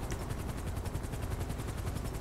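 A helicopter in the FivePD police game thumps with rapid, even rotor beats that run straight through the moment at moderate volume, and no one talks over it.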